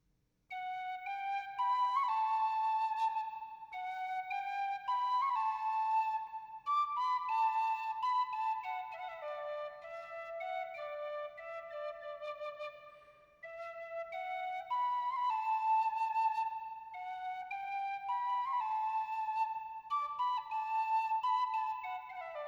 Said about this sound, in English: Oh, and I do the penny whistle